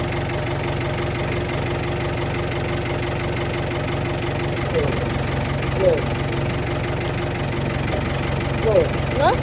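An engine idles steadily up close with a low rumbling drone and slight knocking, continuous throughout, while voices speak briefly over it toward the end.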